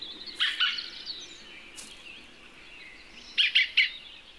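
A green woodpecker in a traditional orchard gives scolding calls: a short burst of sharp, chattering notes, a pause with faint background, then a rapid triple of harsh notes, fairly close and clear.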